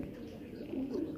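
A young pigeon gives a short, soft low coo close by, with a faint voice in the background.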